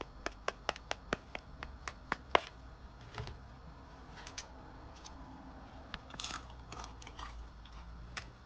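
Sharp, crisp crunching snaps of fried yam breaking apart, a quick run of brittle cracks followed by scattered softer crunches, close up with no talking.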